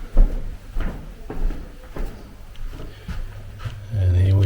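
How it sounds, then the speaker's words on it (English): Creaky old floorboards in a hotel corridor groan and thump underfoot in uneven steps, moderately close, with a person talking over them. "Nice authentic creaky floors."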